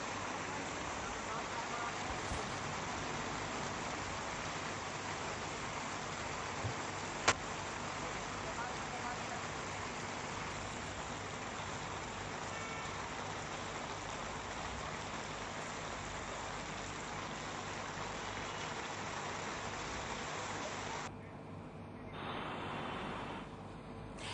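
Steady rain falls over Gurugram streets with passing vehicles, a dense continuous hiss that holds evenly throughout, one sharp click midway and the wash thinning briefly near the end.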